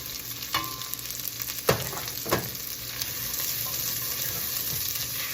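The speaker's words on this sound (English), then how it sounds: "And stir it around" Chopped cauliflower with chopped celery and onions being stirred in a hot pot, a quiet steady sizzle broken by a few distinct scrapes and clanks of the spoon, with no talking.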